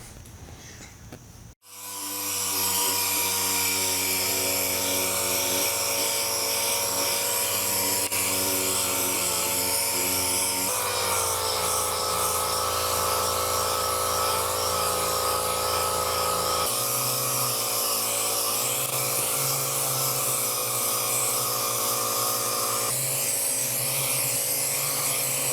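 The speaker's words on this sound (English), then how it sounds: "get to body work and get this tank sanded down" A power sander works over the steel fuel tank of a 1972 Honda CB450 cafe racer project, giving a loud, steady, high-pitched whirring drone that starts abruptly and runs continuously with small shifts in pitch.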